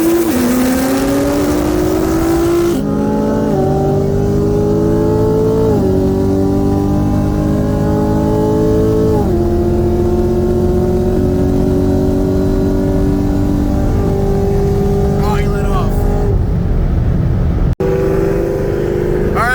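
Modified 2014 Nissan GT-R on factory turbos and E85 drag racing a 2017 Camaro ZL1 with bolt-ons and a cam, engines loud and close, pitch climbing through several gear shifts before cutting off at the end.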